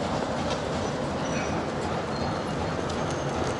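A long-distance passenger train rolling along the rails in western Russia, heard from inside as a steady, moderately loud rumble with faint rhythmic clatter and no voices.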